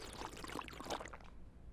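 Plain drinking water poured in a short, steady splashing stream that tapers off near the end, fairly close and alone, with no voices.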